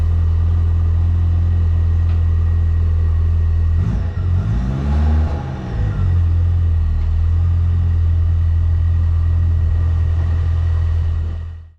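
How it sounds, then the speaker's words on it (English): A 30-year-old car engine runs loud and steady nearby with a deep rumble as the car drives off a trailer, briefly revving midway, then droning on before cutting off. "it's a case of just starting the car and getting it off."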